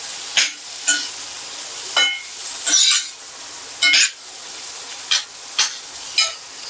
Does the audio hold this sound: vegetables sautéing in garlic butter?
yes